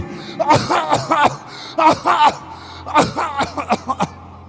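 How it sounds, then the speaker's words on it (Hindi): A person coughs and clears their throat in several harsh bursts, some in quick clusters, with vocal sounds mixed in. "ये कांसी रुकने का नाम ही नहीं ले रही।"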